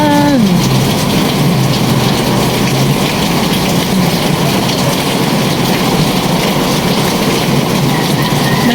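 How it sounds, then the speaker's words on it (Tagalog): Steady rain falls heavily, a loud continuous hiss and patter on surfaces outdoors, with a brief fading tone at the start and no clear talking. "Kaso umuulan."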